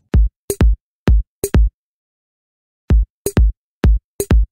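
Drums in a Dora the Explorer music game play a short, loud, clean pattern of punchy hits in two repeated phrases separated by a pause, with no talking over them.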